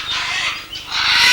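Amazon parrots and conures calling from aviary breeding flights, a loud, continuous wash of overlapping harsh squawks and shrieks filling the air, with no talking.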